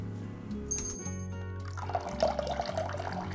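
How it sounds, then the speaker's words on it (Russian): Water pours off boiled potatoes into a colander, a close splashing rush with sloshing and trickling that settles into dripping. "Слейте воду с картошки или переложите ее в другую миску при помощи дуршлака"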